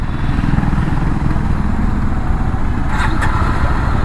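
Jawa 42 FJ 350 motorcycle engine running with a steady, continuous low rumble and a smooth, even hum throughout, with no voices.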